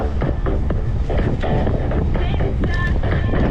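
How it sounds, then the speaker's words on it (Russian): Strong headwind buffeting the microphone while cycling along a coastal road in Crimea in May, a constant loud roaring rumble with gusty fluctuations that never lets up. "а сейчас едешь и ветер фигачит."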